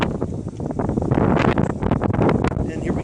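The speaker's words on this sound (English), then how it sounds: "here we got a pretty good gust coming through" Strong Hurricane Florence wind gust roaring across an outdoor microphone, a steady loud buffeting rumble that swells and holds for the whole stretch, with no distinct other sounds above the turbulence.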